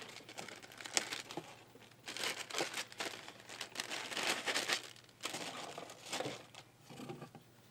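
A plastic Ziploc bag for a Shure SM7dB microphone is handled and crinkled close up, with irregular bursts of rustling and crumpling that come and go over several seconds, no talking.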